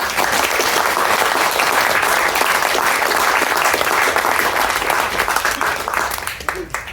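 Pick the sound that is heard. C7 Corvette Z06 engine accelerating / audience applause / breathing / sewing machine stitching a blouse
audience applause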